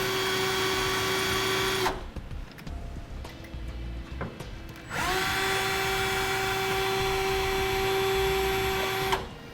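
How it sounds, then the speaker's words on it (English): A power drill whines steadily while drilling holes in the metal of a 2011 Ford F-250, cuts out briefly around two seconds in, then runs again for a long continuous stretch, close and loud. "We'll go ahead and drill up 2 lower holes using a bit that matches the bushing right here."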